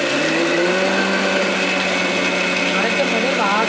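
Kitchen mixer grinding dried red chillies for idli podi, a loud, continuous whirring roar, close and steady throughout.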